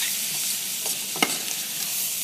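Beef chunks for a navarin sear in a hot pan, a loud, dense, continuous sizzle with a brief scrape of stirring partway through and no talking.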